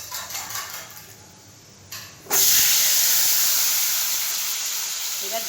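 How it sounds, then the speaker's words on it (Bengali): Black cumin seeds land in hot oil. After a quiet, faintly hissing start, a sudden loud sizzle bursts in and settles into a sustained bright frying hiss that fades only slightly. "ওই তেলে কালো জিরে দিয়ে দিলাম।"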